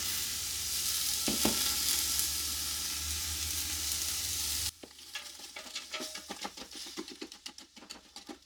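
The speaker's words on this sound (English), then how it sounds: "We're just going to saute that till they're nice and soft" Vegetables sautéing in a pan with salt and pepper, first a loud continuous sizzle, then a quieter crackle broken by rapid scraping stirs and clicks.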